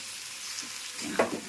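Goat meat hits hot oil seasoned with bay leaf and whole spices and gives a short burst of frying sizzle. A louder crackle swells near the end.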